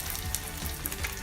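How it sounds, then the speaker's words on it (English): An egg fries in a pan with a soft, continuous sizzle and faint crackle, quiet and close, with no talking over it. "You let that cook till the bottom of the egg is fully cooked"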